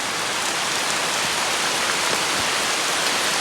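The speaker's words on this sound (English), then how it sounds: "I could hear the rain come across the lake" Steady heavy rain sweeping across a lake in the Algonquin backcountry, a dense, continuous hiss of drops on water and surfaces, loud and unbroken with no voices.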